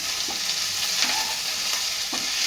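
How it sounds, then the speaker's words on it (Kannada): A handful of coriander leaves frying in a pan, a steady soft sizzle with a few scraping stirs spaced through it, close and alone. "ಒಂದು ಹಿಡಿಯಷ್ಟು ಕೊತ್ತಂಬರಿ ಸೊಪ್ಪು, ಇಷ್ಟು ಒಂಚೂರು ಫ್ರೈ ಮಾಡಿಕೊಂಡು"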